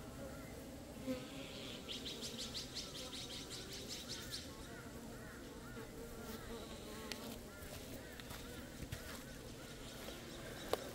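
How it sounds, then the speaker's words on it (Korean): A low, steady buzzing of many Asian honeybees around a hive, with occasional faint bird chirps in the background. "동양종 꿀벌이 지금 들어가려다가 계속 쫓겨나오죠"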